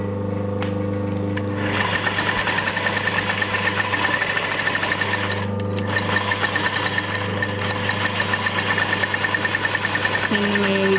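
A sewing machine stitches saree fabric in a steady, fast mechanical whir with a rapid needle rhythm, running continuously and close with a brief pause in the middle.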